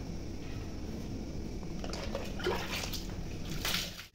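Water sloshing and splashing as a young girl is bathed indoors, a continuous close wash of pouring and splashing with a few brighter splashes near the end.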